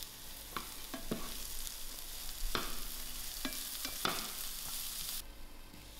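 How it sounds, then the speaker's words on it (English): Carrots fry in a pan for spring roll filling with a continuous, fairly soft sizzle, and a utensil knocks and scrapes against the pan several times. "I'm also going to add in my carrots, and I'll allow this to fry for a few"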